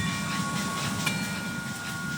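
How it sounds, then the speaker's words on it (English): A train rolls steadily past in a train-driving video game, a continuous low rumble with a hissing wash on top at moderate, even loudness and no talking. "I need to wait for the train to go past."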